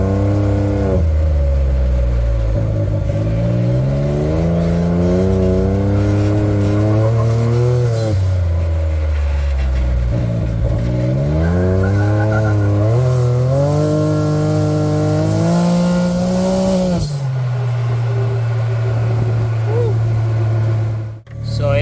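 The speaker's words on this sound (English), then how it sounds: "see if my phone mic records a little better of how this exhaust sounds" A car's deep, loud exhaust through an aftermarket RPM Powersport 3-inch Monster Core muffler rumbles up close, revving up and down repeatedly as it drives, steady and continuous throughout.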